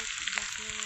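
Ginger garlic paste fries in hot oil with a steady, dense sizzle and a few soft stir scrapes. It is close and continuous through the short moment, with no voices.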